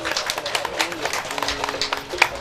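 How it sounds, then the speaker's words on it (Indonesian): Wedding guests clapping for Niko, a brief scattered round of applause at moderate loudness, with background murmur and voices mixed in. "Tepuk tangan buat Niko."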